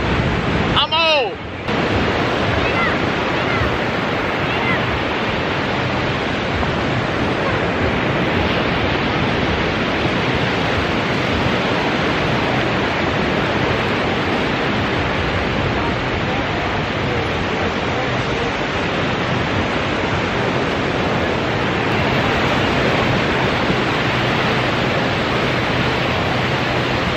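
Ocean waves at Myrtle Beach make a loud, continuous broadband wash of surf mixed with wind buffeting the microphone, after a brief sharp jolt near the start.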